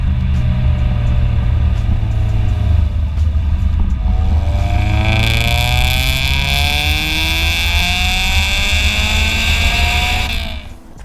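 A Honda Prelude VTi with a baffled decat exhaust revs hard and holds a loud, rising engine note, then climbs sharply in pitch as the VTEC stage comes in around the midpoint before cutting off at the end, close up with no talk.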